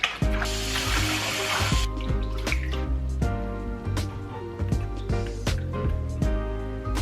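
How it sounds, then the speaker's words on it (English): Running tap water splashing over raw pork chops in a kitchen sink, a steady close wash of water with knocks and clatters of the meat and sink, loudest during the first two seconds and then quieter dripping and handling. "just make sure you wash it a lot under the sink"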